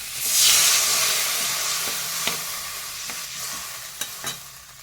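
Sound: water added to frying spice paste in pan

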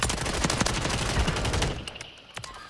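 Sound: gunfire in the video game Warzone 3

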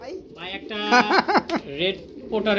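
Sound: fancy pigeons cooing

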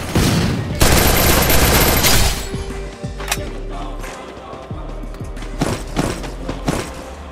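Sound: gunfire in the video game Free Fire

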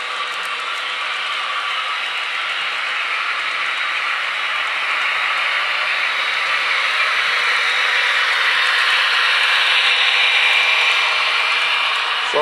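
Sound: Bowser model CSX train running through a tunnel

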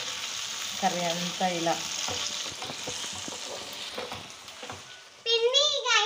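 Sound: drumsticks and brinjal curry frying and being stirred

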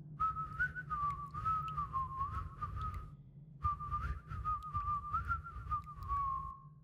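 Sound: loud whistling of a tune

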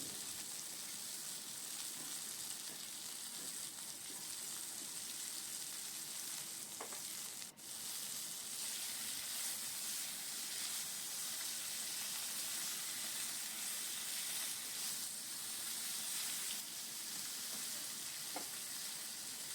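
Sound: potatoes and green bananas frying with salt

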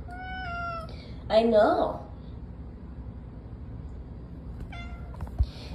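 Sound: cat meowing

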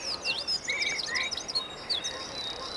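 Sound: blackbird singing

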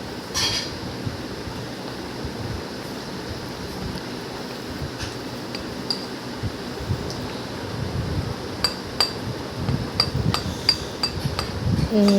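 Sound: spoon stirring batter in a bowl

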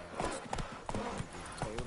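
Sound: Geralt's horse Roach trotting in The Witcher 3 video game

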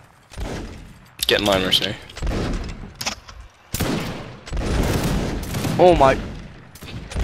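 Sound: musket volley fire in video game Mount and Musket

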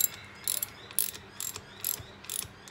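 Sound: ratchet turning a 14mm socket on motorcycle head

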